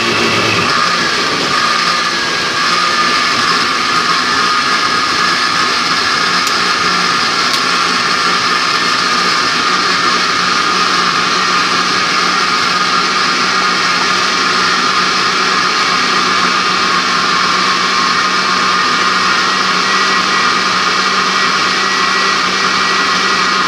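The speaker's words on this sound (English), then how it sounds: "so let's turn on the blender." A kitchen blender mixes tomato soup with a loud, continuous motor whir that holds steady for over twenty seconds, with no talking.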